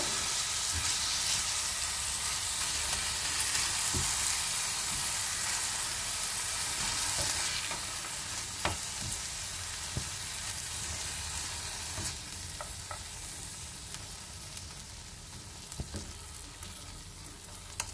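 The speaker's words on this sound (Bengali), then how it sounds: "ছানাটাকে খুব ভালোভাবে কাজু কিশমিশের সাথে ভালোভাবে একটু নেড়ে চেড়ে নিচ্ছি।" Chhena, already coated in ghee, stirred and lightly fried with cashews and raisins in a pan, a steady close sizzle broken by occasional scraping taps of the spoon, with no talking.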